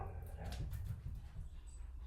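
Dogs whimper and whine softly indoors, a run of thin, wavering cries at low volume over a constant background hum.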